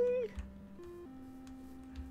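A short meow from a cat in Minecraft opens the sequence, followed by quiet steady game tones and a faint ticking, with no talk.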